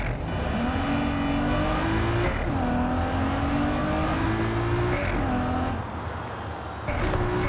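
Car driving in Cyberpunk 2077, a steady loud engine drone with rising and shifting revs throughout, no voices over it.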